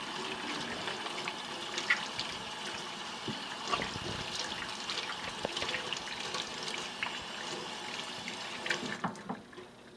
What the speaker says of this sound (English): Wash your hands. Make sure you get it all.